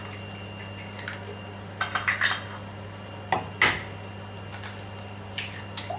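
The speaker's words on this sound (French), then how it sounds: "je vais casser 3 œufs" Three medium eggs are cracked one by one into a stand mixer bowl for a cold-method genoise, giving a few sharp taps and wet clinks against a quiet, steady background hum.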